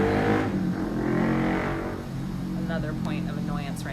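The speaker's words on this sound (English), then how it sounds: "Another point of annoyance right now is the super loud volley of motorcycles." A loud volley of motorcycles roars past nearby, a sustained engine drone that swells and fades as they go by.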